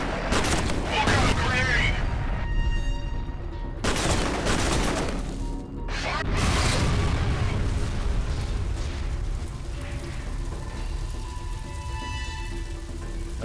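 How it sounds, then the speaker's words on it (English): Grenade blasts go off in the video game F.E.A.R., heavy booming bursts over dense gunfire and game noise, with two big explosions standing out against a loud, continuous battle mix. "Those best 2 grenades of the game."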